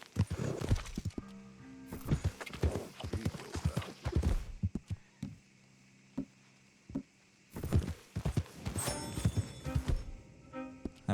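Horse hooves clip-clopping in Red Dead Redemption 2, with bursts of thudding steps and a brief whinny, fairly close and moderately loud, alternating with quieter stretches.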